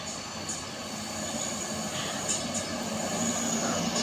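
A heavily loaded Mitsubishi Colt Diesel truck labours up the steep Kedabuhan hill with a steady, rumbling engine roar at moderate distance.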